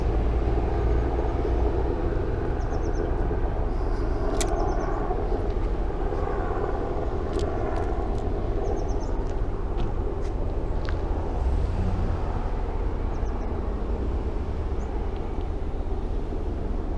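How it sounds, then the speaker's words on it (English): Military helicopters fly overhead during a wildfire lockdown in Santa Rosa, giving a continuous broad rumbling drone with a few faint sharp ticks scattered through it. "with military helicopters still flying in the skies."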